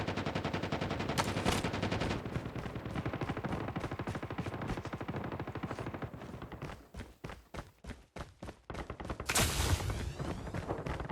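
Machine gun fire from Call of Duty Mobile rattles almost without pause in long, rapid bursts, loud and near. Brief gaps break up the firing before it picks up again, and nobody speaks.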